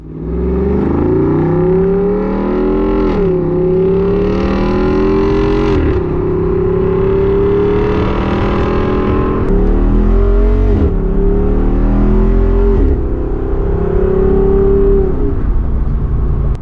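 A Jeep Wrangler 392 V8 engine runs loud and close throughout, its deep exhaust note rising and falling through repeated revs and shifts, with sustained roaring pulls broken by brief dips between gears.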